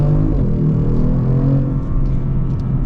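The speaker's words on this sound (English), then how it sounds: "we'll get our full-blown acceleration" A 2022 Genesis G70 Launch Edition pulls hard under full throttle, engine note rising steadily in pitch with a deep rumble and whir, loud and close with no talk.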